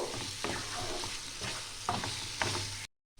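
Potatoes frying in a pan for a Bengali broccoli tarkari are stirred, steady sizzling broken by several scraping strokes of a utensil, before an abrupt cut to silence.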